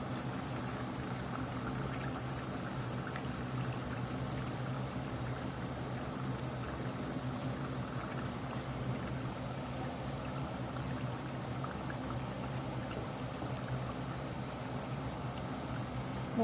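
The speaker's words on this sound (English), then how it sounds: "I'm going to put about 3/4 cup of water in here." About three-quarters of a cup of water pours steadily into a cooking pot of carnitas cooking in lard with lime peel, a faint continuous splashing with no voices.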